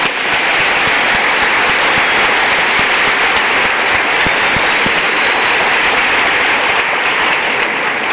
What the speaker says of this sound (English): I want to give these 2 another round of applause.